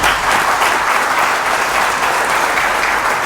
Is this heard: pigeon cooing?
no